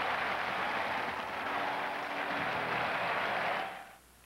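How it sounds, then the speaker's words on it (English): A stadium crowd at a 1992 American League Championship Series baseball game applauds Kelly Gruber after a defensive play, a broad, steady roar of clapping that fades out near the end. "Kelly Gruber gets a big hand from the crowd after the sparkling defensive play"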